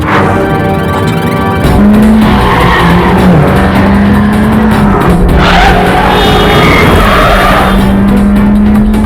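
A speeding car in a Hindi action film chase skids with screeching tires while its engine roars. The sound is loud and sustained for the whole stretch, with a high tire squeal riding over the motor.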